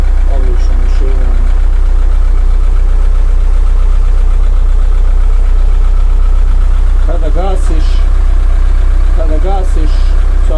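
An 80 hp 4x4 tractor engine idles loudly and steadily with a deep continuous rumble and a slight knocking pulse, close to the microphone, while someone talks intermittently over it.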